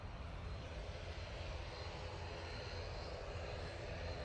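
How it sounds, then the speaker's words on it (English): An ATR 72 turboprop departs for Guernsey from Manchester Airport, its engines giving a steady, moderately distant drone that holds even throughout with no voices. "So we got this beautiful Arini ATR 72 going back to Guernsey."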